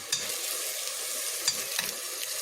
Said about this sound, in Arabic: احنا هنشوح البصلة بس